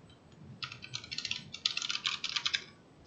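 Code typed on a computer keyboard, a steady run of quick close clicking keystrokes in bursts for about two seconds, alone with no talk.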